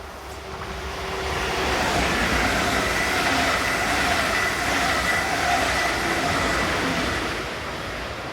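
A passenger train hauled by a class 110 locomotive on a German mainline between Fulda and Bad Hersfeld rumbles past steadily, swelling and holding loud before easing slightly, with no voices.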